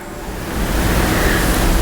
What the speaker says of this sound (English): Other than the low, gently lapping waves at the shoreline, the harbor is still and calm and reflective.